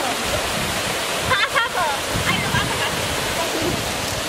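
Water pours steadily at Andheri Waterfall, a broad continuous rush heard close, with brief voices and faint whistles breaking through now and then.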